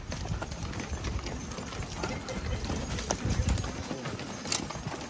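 A donkey's hooves clip-clop steadily during a cavalcade parade, moderately close, with a busy outdoor background of murmuring noise.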